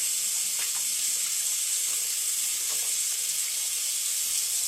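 Hot tap water runs steadily into a sink while dishes are washed, a continuous hiss of water with a few soft clinks, heard alone without talk.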